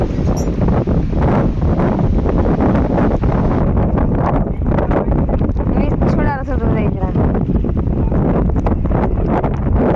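Strong wind gusting across a beach at Rameswaram, roaring loudly and steadily against the microphone throughout with constant buffeting, while a person talks over it.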